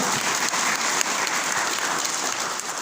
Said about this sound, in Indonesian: Sekarang kita sambut dengan meriah, tepuk tangan meriah untuk Coach Fuad